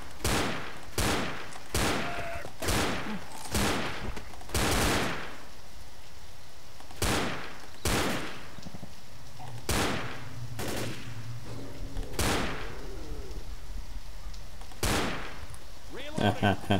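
Gunfire in the video game Left 4 Dead, sewer level, with repeated sharp shots in irregular bursts, some close together and others spaced a second or more apart, loud against a low background.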